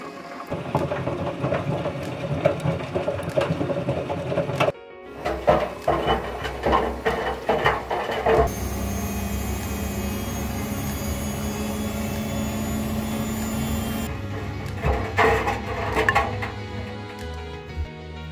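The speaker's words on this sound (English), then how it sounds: "I'll wash them in a washing machine" Five wristwatches, including Skmei, Casio and Sanda models, are washed in a washing machine. The drum churns and tumbles with rough rubbing and knocking, breaks off into a steady whooshing hum of water and motor, then goes back to clattering agitation, with no talking.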